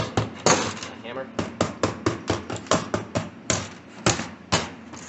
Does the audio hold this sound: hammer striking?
yes